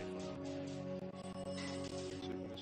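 Telephone ringing as a sound effect in a Spanish-language true-crime documentary, a repeating electronic ring layered over dense music and background sound, fairly faint in the mix.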